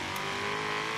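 A Ford Mustang V8 in Forza Horizon 3 revs high toward redline, a steady, dense engine drone held loud and close for about a second with a faint tire squeal mixed in.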